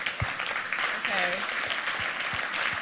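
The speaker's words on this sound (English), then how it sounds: "You probably shouldn't be applauding that" An audience applauds in a hall at a 27C3 hacker conference talk: a dense, steady wash of clapping that runs the whole time, with a voice briefly audible over it.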